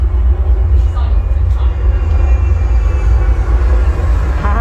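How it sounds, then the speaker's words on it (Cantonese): A steady, loud low roar of an aircraft passing overhead near Kai Tak airport, Hong Kong, filling the whole stretch with continuous rumble and faint background bustle. "呢度聲咧就係個飛機喺上面飛過啦。"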